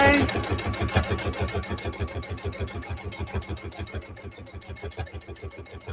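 A sewing machine stitches a bag seam in a fast, steady mechanical rhythm of needle strokes, close and continuous, with one brief pause and a voice speaking over it.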